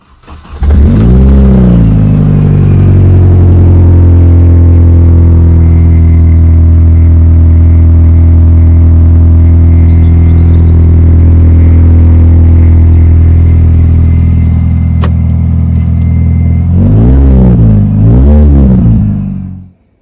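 Mini Cooper S R53 with its rear exhaust box removed, engine blipped loudly at first, then held at a raw, booming steady drone for a long stretch before two more sharp revs and a sudden cut, very close and loud.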